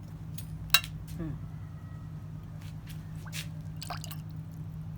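Fish sauce is poured into a jaew chili dipping sauce with tamarind water, heard as a few brief drips and light clinks over a low steady hum in a quiet kitchen.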